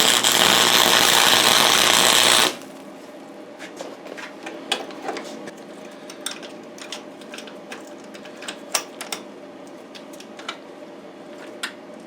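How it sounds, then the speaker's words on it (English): A small weld is made to repair a plow, starting with a loud continuous buzzing hiss for about two seconds, then quieter scattered crackles and ticks as the metal cools. "Now I'm going to have to weld it."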